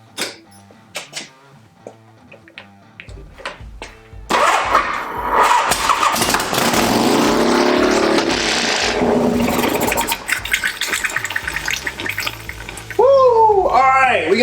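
A Harley-Davidson FXR motorcycle engine cranks over after a few sharp knocks. It catches into a loud, steady running roar that holds for about ten seconds, with a louder revving surge near the end.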